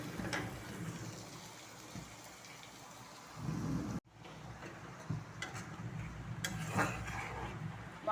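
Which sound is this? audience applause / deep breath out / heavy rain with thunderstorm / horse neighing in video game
heavy rain with thunderstorm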